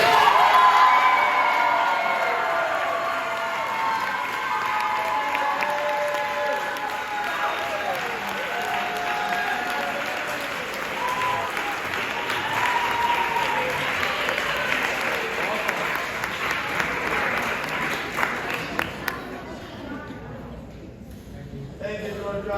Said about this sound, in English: Another round of applause today.